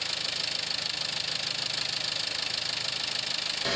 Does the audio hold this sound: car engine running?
yes